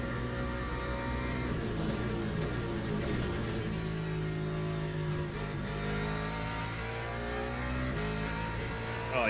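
A race car engine in Le Mans Ultimate, a racing video game, revs hard and steadily through gear changes, loud and continuous, with the pitch climbing and falling as the car works through a lap.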